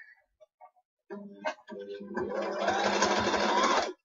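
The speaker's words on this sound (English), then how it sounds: "Let me just sew this little triangle bit." A sewing machine stitches a small fabric triangle piece for armor, starting with a few light clicks, then stuttering briefly before running steadily and loudly in a continuous whirr to the end.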